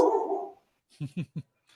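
Small dogs bark in a household: three quick, fairly close barks in a row, then a fourth clipped bark after a short pause, with a brief indistinct sound just before.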